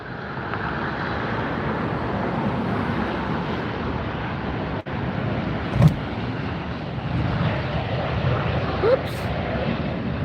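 A Lufthansa airliner takes off at Los Angeles Airport, a broad, steady jet roar that fills the scene at even loudness, with a couple of brief nearby clicks and a short voice-like sound.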